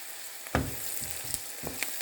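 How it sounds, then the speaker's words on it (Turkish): Onions fry in hot oil, sizzling and crackling softly in a pan, with occasional stirring scrapes and small pops. "Şimdi yağımı kızdırdım. Soğanlarımı kavuruyorum."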